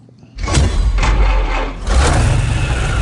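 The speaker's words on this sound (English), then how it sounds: "Motorcycle sound?" An engine in the Mad Max: Fury Road trailer starts abruptly and roars loudly up close in two surging bursts, with no voices over it.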